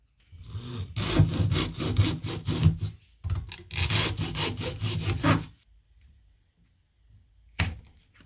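Oil filters are being cut open: two bursts of rough back-and-forth sawing, a pause between them, loud and close, then near silence and one brief final scrape.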